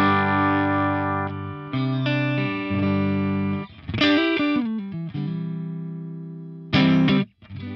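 A heavily distorted electric guitar through a Sunn Model T amp model in a Line 6 Helix rings out in sustained chords, with crunchy strummed bursts and a few sharp cutoffs, loud and close.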